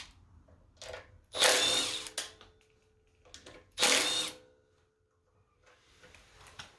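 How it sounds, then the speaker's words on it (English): A power tool spins off the carburetor bolts on a Coleman CT200U-EX minibike in two short, close whirring bursts, with quiet gaps and faint clicks between them. "So now we're going to take the bolts off with the carburetor."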